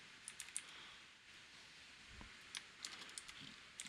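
Soft, quick keystrokes tapped on a computer keyboard in a quiet room, a few scattered clicks then a short burst of typing, faint and close.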